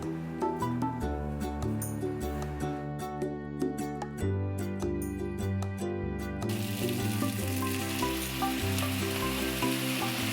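Cooked spaghetti sizzles in a hot pan with sun-dried tomato and garlic cream sauce, the frying crackle growing louder toward the end while tonal background music plays throughout.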